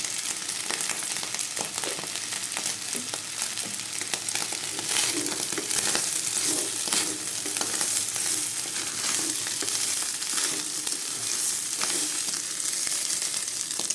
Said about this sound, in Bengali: আর চালটা আমার ভাজা হয়ে গেছে